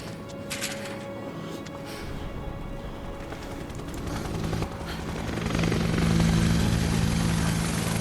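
Helicopter flying by in the Final Fantasy VII Remake video game: a steady rotor drone that swells louder over several seconds as it draws nearer, over a low game-soundtrack hum.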